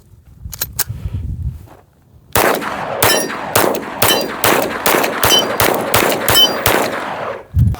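A Glock pistol fires a rapid string of about a dozen loud, sharp shots from a dirt-covered AC Unity magazine, following a few light clicks and handling noises.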